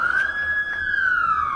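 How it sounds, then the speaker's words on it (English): A siren wails steadily at an event in North Carolina welcoming a multi-billion dollar electric vehicle plant, its single rising-and-falling tone loud and continuous throughout with faint background noise. "they actually ring the sirens and the lights for it"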